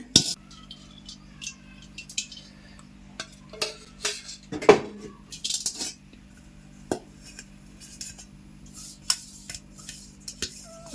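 Metal clinks and clatters in scattered bursts as a steel bowl is handled and set down while making egg cake curry, with quiet pauses between the knocks.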